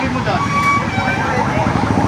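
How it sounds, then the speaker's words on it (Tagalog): A wailing ambulance siren at the scene of a motorcycle and tricycle crash, loud and close with rising and falling tones over street noise and a busy roadside crowd, with people talking nearby. "Ayan, ambulansya."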